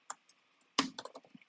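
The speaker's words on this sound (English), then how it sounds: "when I write text in the feedback text area and use F," A short burst of close keyboard typing: a couple of isolated clicks, then a quick run of crisp key presses.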